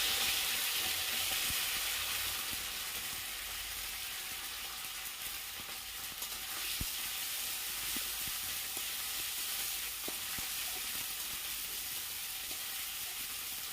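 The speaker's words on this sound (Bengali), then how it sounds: "সেদ্ধ আলুটাকে ওই তেলে ভেজে নেব।" Boiled potatoes fry in oil with a continuous low, hissy sizzle and a few faint clicks of a utensil, steady and quiet for the whole stretch.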